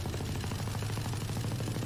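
Uncontrolled automatic weapon fire in Valorant: a steady, rapid stream of shots at even rhythm, dense and continuous throughout, with no talking.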